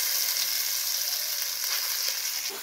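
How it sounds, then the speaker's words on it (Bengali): Green pea paste hits hot oil seasoned with asafoetida in a wok, giving a loud, dense, continuous sizzle. The sizzle eases slightly toward the end, with a faint scrape of stirring. "কড়াইশুঁটির পেস্টটা দিয়ে দিব"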